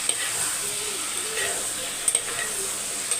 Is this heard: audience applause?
no